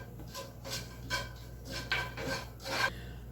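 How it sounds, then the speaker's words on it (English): Spoon stirring bacon and butter together in a pan while making shrimp and grits: a series of soft scraping, rasping strokes, about seven of them in an uneven rhythm, close up and fairly quiet. "I'm going to stir the bacon and the butter up together."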